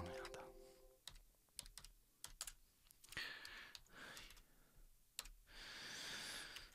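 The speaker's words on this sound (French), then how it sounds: "À force de taper sur mon clavier" Someone types in bursts on a worn old computer keyboard whose key labels have rubbed off, giving sharp close clicks with short pauses between runs, along with brief background noise.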